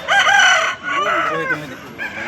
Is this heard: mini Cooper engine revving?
no